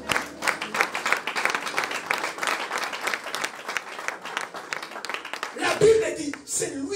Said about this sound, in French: Quelqu'un va acclamer le Seigneur.